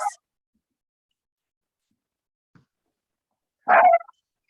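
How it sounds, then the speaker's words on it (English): A single dog bark, a short sharp yelp heard once on an otherwise quiet online call. "Is that your dog"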